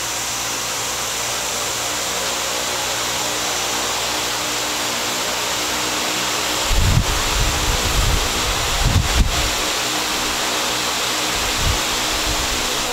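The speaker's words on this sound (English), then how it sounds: "It's fairly loud. I mean, if you think about it, it's a fan." A loud Newair 26-inch pedestal misting fan whooshes steadily and unbroken, close to the microphone, with a few low bumps and rumbles partway through.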